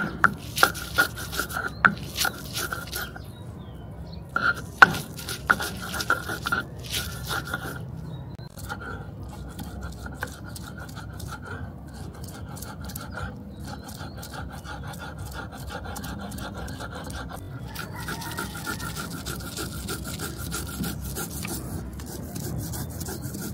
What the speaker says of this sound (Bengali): মশলাটাকে একটু শিলপাটায় বেটে নিব